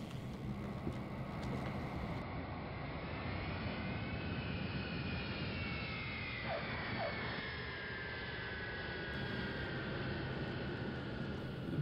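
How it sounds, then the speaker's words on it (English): Airliner coming in to land on runway number 2 for a bumpy landing: a steady, close engine roar with rushing wind and a faint rising whine, continuous throughout with no talk. "We're landing on runway number 2, so it's going to be a bumpy landing."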